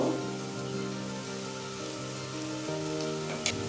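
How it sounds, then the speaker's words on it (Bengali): Potatoes with turmeric frying in a pan give a steady, close, dense sizzle with a constant crackling hiss that runs unbroken throughout. "আলু বেশ কিছুক্ষণ ধরে ভেজে নিচ্ছি যতক্ষণ না আলুতে রং ধরা শুরু হচ্ছে"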